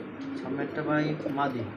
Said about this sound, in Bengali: এখানে একজোড়া ড্যানিশ কবুতর